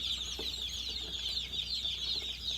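Young chicks under heat lamps in an old chicken coop keep up a continuous high peeping and chirping at a moderate, close level.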